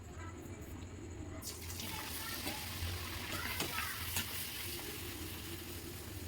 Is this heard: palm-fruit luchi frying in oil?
yes